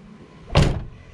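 The sliding side door of a Ford Transit van moves in one short, close, loud rush of sliding and a thud, with quiet before and after it.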